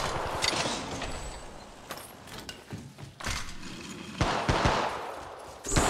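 Automatic weapon fire in the battle royale game Apex Legends: close, loud bursts of rapid shots with short gaps and clattering mechanical sounds in between.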